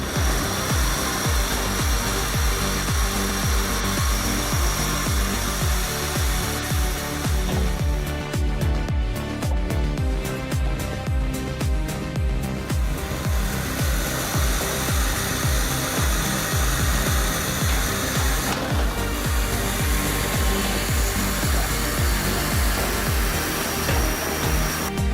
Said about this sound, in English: This branch logger tears through 200-millimeter logs in seconds.